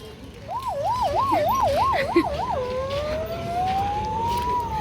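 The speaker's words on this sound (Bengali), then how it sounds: "এই যে অ্যাম্বুলেন্স অ্যাম্বুলেন্স" An ambulance siren on a street during Kali Puja wails in quick rising-and-falling cycles, then shifts into a long slow upward sweep, loud and close over traffic rumble.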